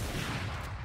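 Dense, continuous gunfire-like bursts during the last round of a Valorant match, including a sniper rifle shot, loud and busy throughout with no clear gaps between reports.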